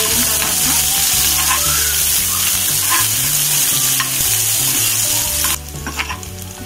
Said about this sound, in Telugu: ఆయిల్ హీట్ అయింది కదండి ముందుగా ఆనియన్ వేసేసుకుంటున్నాను అలానే వెల్లుల్లి కూడా